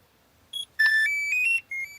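A Potensic Atom 4K GPS camera drone powering on with a short series of clear electronic start-up beeps and tones rising in pitch, loud and close in a quiet room.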